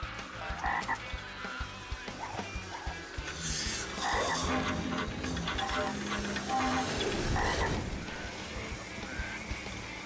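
Frogs croak in a cartoon about raining frogs: dense, busy croaks pile up with hissing bursts and swelling noise, loud and continuous, mixed with cartoon sound effects.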